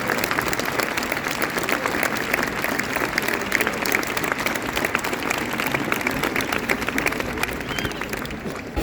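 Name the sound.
crowd applauding at a Spanish Easter procession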